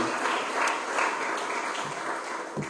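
A church congregation at a Spanish-language worship service claps in a loose, subdued round of applause, steady and moderately loud throughout with no single clap standing out.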